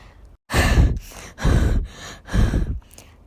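Three heavy, drawn-out breaths in a row, loud and close, each a rough gasping exhale with short pauses between, no talking.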